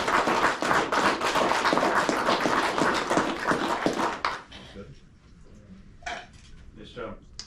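Audience applause at a fishing guide's presentation: dense, steady clapping for about four seconds, then it fades out and a voice speaks over a quieter room.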